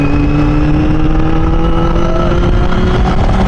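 A Honda CB400 Super Four Spec1 HYPER VTEC motorcycle idling at low RPM, a loud, close, steady engine drone with a smooth even hum and no revving.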